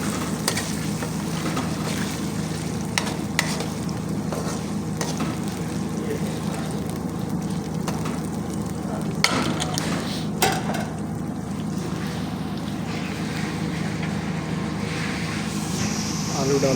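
Potatoes stirred in a cooking pan, a steady frying hiss with intermittent scraping strokes and a few knocks against the metal, carried on under a continuous background hum.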